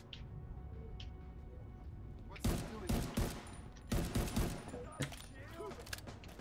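Gunfire in The Division 2 video game, several loud close bursts of rapid shots in quick succession over a low background rumble, with a voice briefly heard.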